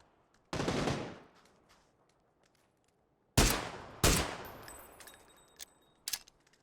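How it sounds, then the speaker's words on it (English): Gunfire in the video game PUBG during a pro scrim match: a loud burst of shots, then two sharp close reports a second apart, followed by scattered fainter shots and a final crack, with quiet gaps between. "Good headshot onto Voldemort"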